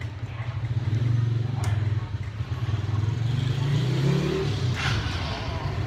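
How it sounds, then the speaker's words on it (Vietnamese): A 2001 Honda Spacy scooter engine fires up and settles into a steady low idle with some rising revs, heard close and continuous with a slight rattle. "Rồi mình nổ máy cho bạn nha."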